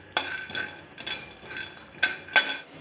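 Peanuts dry-roasting in a pan, stirred with a metal utensil that clinks and scrapes against the pan in a few sharp, close strikes with quieter rustling between.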